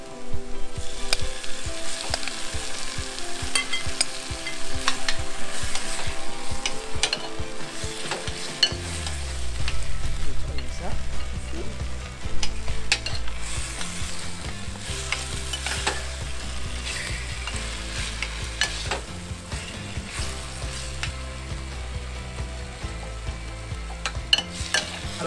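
Spices, browning seeds and onions stirred and fried in a pan for a vegan pumpkin purée, a steady sizzle with the scrape and clatter of stirring running throughout, close and fairly loud with no talk.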